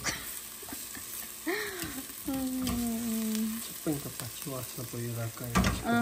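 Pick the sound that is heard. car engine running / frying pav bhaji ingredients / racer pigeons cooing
frying pav bhaji ingredients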